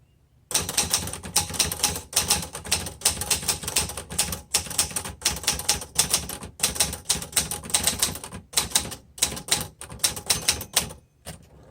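A 1966 Olivetti Underwood 21 typewriter being typed on steadily and close up, a dense run of sharp mechanical keystrokes with brief pauses, heard alone without any talk.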